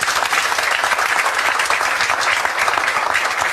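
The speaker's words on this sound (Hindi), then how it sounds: "जोरदार तालियां बजाओ।" Enthusiastic audience applause fills a coaching centre in Meham, with dense, steady clapping from many hands at close range, holding a constant level throughout with no talking.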